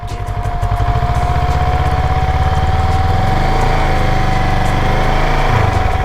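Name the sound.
Kawasaki ER6N motorcycle engine revving with too much throttle in gear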